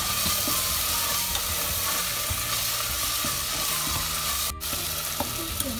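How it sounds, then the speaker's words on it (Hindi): Turmeric, sweet paprika and other spices fry in oil in a pan over medium heat, a dense, steady sizzle with faint stirring scrapes throughout and one brief dip near the end. "तो हमारे मसालों को पकते हुए 2 से 3 मिनट हो गए हैं"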